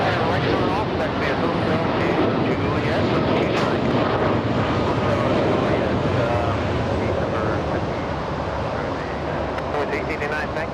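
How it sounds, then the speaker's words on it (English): A Boeing 747 on final approach at LAX gives a steady, loud jet roar that fills the whole stretch, with wind rumble and overlapping talk throughout. "Looks like we have a 747 on final approach for the south side."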